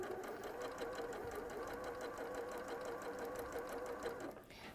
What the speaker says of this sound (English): we're simply just going to sew around that circle